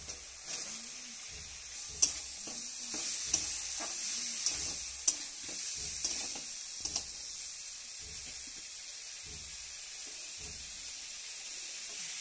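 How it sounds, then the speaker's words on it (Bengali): Green peas tipped into a sizzling spice mixture with chana masala for a pea curry, frying steadily in the pan with repeated scrapes and clinks of stirring throughout, no voices. "তারপর এই মশলাটার সঙ্গে আমি এগুলো ঢেলে নেব।"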